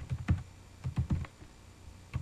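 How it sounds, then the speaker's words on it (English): Typing on a computer keyboard while entering text in an Excel 2007 data validation dialog, a handful of distinct key clicks in short clusters, close and fairly quiet with pauses between. "I'm going to go back and type in dining."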